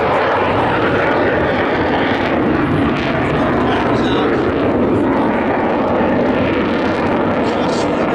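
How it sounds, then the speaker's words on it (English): An Avro Vulcan bomber roars past in a loud, continuous jet rumble at a Scottish airshow, with a public-address announcer talking over it. "A special tribute to you, ladies and gentlemen, the Avro Vulcan."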